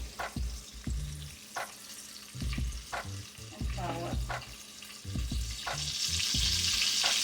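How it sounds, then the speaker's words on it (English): Small party chicken wings coated in egg and flour fry in oil with a continuous crackling sizzle, punctuated by intermittent thuds and clatter from nearby handling. "we're going to let those pieces cook for about 17 to 18 minutes until they're golden brown"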